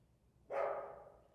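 A dog gives one short, clear bark at moderate distance, standing alone against a quiet background.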